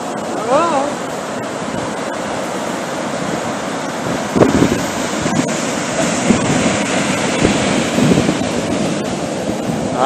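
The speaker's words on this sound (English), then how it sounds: "The first time to see the ocean" Ocean surf washing onto Stinson Beach fills the scene with a steady, loud broadband roar, and a voice rises briefly near the start.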